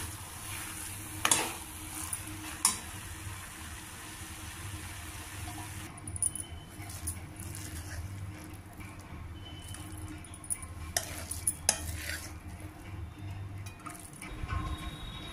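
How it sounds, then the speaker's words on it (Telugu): Cabbage curry with masala frying in a pan as it is stirred, a quiet steady sizzle with occasional scraping and clinking of the spoon against the pan, close and without talk. "కొద్దిగా మిక్స్ చేసుకోవాలి."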